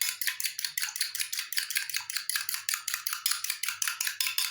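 A spoon beats an egg yolk with two spoonfuls of milk in a small bowl, giving a fast, steady run of bright clinking scrapes that carries on alone at close range with no voices.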